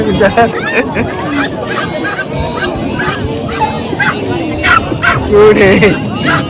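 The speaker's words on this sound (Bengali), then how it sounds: "কুত্তার হাট চলতেছে এবং এখানে কুত্তা নিয়ে একটা আয়োজন করা হয়েছে" Dogs bark, yip and whimper at a crowded dog market in Bangladesh, several close barks repeating over a steady babble of people talking nearby.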